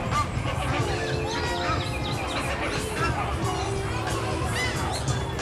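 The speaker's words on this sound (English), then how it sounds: "And little ducks back there." Ducks and flamingos call at Busch Gardens, a steady noisy chorus of honks and squawks from the birds that runs without a break, heard over a background of crowd chatter.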